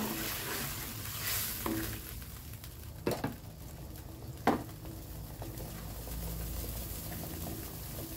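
Fish broth boils in a pot, a soft, continuous bubbling and hissing at low volume, broken by a couple of brief clinks or knocks partway through.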